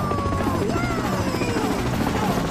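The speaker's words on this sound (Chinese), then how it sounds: "天天驾驶着直升机在上空发射烟雾弹" A cartoon helicopter hovers overhead firing smoke bombs over the sea during a shark rescue, giving a steady, loud rotor-like whir with sweeping tones layered over busy background music.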